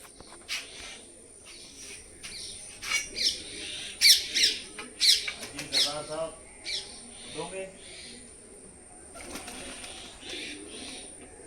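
Racing pigeons at a rooftop loft give scattered squawks and calls at close range, with bursts of fluttering and clatter and a faint voice in places.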